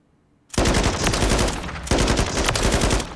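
NG7 rifle fired in the Call of Duty Modern Warfare III firing range: two loud, sustained bursts of rapid automatic fire, close and dry, separated by a brief break, with nothing else audible.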